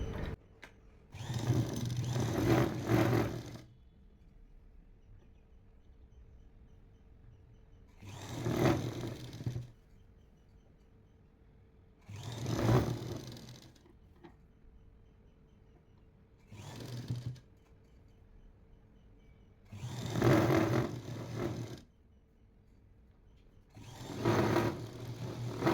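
A sewing machine stitches a seam on a readymade top in six separate bursts, each a few seconds long, with short quiet pauses between them. Each run is a steady mechanical whir, close and clear, with no talking.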